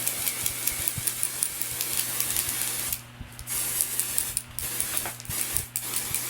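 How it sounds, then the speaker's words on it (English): A fine aerosol hiss of spray foundation sprays in short repeated bursts, close to the mic, with brief pauses between puffs. "use this spray foundation from Sephora to just give me a nice little mist of color"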